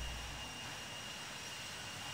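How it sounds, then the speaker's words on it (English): The player's own airliner engine drones steadily in the Infinite Flight simulator, a constant broadband jet roar with no breaks, heard alone throughout. "Maybe it's my plane I'm listening to."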